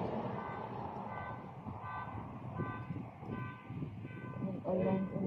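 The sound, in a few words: vehicle horn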